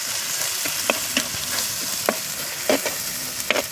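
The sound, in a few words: stirring coriander powder into frying tempering for chicken curry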